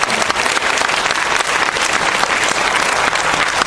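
Dense, loud applause from the crowd at a national activists' conference for building a working-class party, many hands clapping steadily for the whole stretch with no talk over it.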